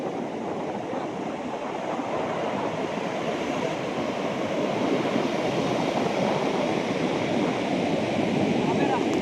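Steady roar of sea surf at Perupalem beach, a coconut-palm-lined shore, with continuous broadband wash and wind noise throughout and no distinct breaks between waves.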